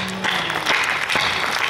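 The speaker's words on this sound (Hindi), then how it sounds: "कमजोर तालियां नहीं चाहिए, तालियां चाहिए" Audience applause at a Hindi poetry recital, a brief burst of clapping from a crowd.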